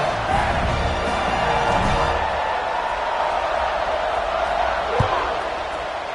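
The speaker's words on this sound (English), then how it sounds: "this crowd is feeling themselves after that last drive" A stadium crowd in a football video game roars in a continuous, loud wash of cheering and murmur, with a sharp thud near the end, under an announcer's voice.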